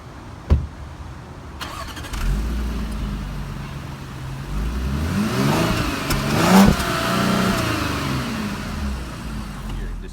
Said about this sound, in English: Let's check out the exhaust notes this engine helps produce.